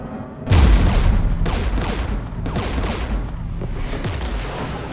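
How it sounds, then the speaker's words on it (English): Heavy gunfire in Mass Effect 3 erupts with a loud boom, followed by a dense barrage of repeated shots and blasts that continues through the whole stretch. "We're taking fire."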